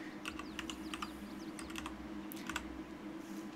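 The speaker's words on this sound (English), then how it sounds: "So I'm gonna start typing out," Typing on a computer keyboard while entering an admin command in Ark: Survival Ascended, a quick burst of soft clicks followed by a short pause and a few more keystrokes, heard over a steady background hum.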